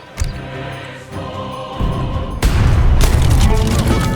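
Cannons fire in the strategy game Age of Empires 3, booming blasts piling into a loud, sustained barrage of explosions and battle noise that swells and holds to the end.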